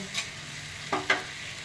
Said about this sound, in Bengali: এই দু চামচ মতো টক দই দিয়ে দিলাম এবারে আমি একটু ভালো করে কষিয়ে নেব